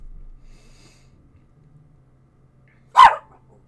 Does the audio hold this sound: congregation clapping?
no